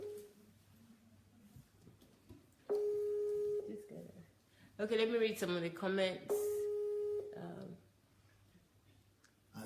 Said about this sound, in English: And it's ringing on Skype, it's not picking too